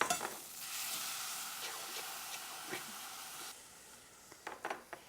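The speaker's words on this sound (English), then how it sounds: "So now that I've rinsed off my rice, I want to get it toasting in my pan." Rinsed wild rice toasting in a dry pan, a soft continuous hiss and faint rustle with light scraping stirs, quiet and close, ending in a few sharper clinks and scrapes.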